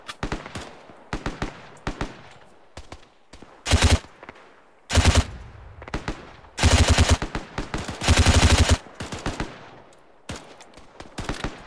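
Gunfire in Arma 3, scattered single shots that build into several loud, sustained automatic bursts with short pauses between them.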